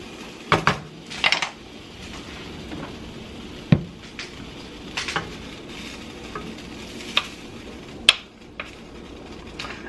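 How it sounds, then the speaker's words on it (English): About two tablespoons of butter melt in a pan as a utensil stirs it around, a low sizzle under intermittent clinks and scrapes of metal against the pan. "I'm going to do about 2 tablespoons of butter. And we're just going to let that melt."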